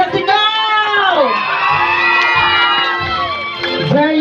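Wedding reception crowd greets the arriving newlyweds with loud cheering, whoops and shouting, voices rising and falling in excited overlapping cries with little distinct clapping audible.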